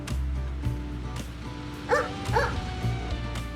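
A cartoonish dog in the video game Bloomtown: A Different Story gives a pair of quick, bright barks in close succession, ringing out over continuous background game music.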